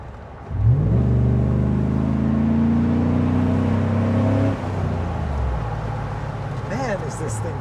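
A Chevy SSR convertible truck drives along, its engine holding a steady, loud drone before throttling down near the end, with people talking over it.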